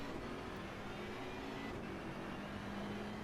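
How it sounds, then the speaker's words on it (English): Steady engine drone of a BMW race car in a racing video game at Suzuka, a continuous held tone at constant loudness with no talk over it. "I didn't realise how nice this Bimmer sounds"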